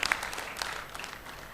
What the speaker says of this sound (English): Let's give the Innovators Incubation a round of applause.